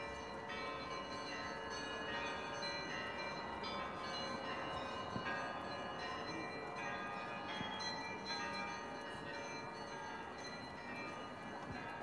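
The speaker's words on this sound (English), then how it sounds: "Let's listen to the bells a little bit more" Church bells in Kazan, Russia ring continuously in a dense, layered peal, steady and moderately loud throughout, with no pauses.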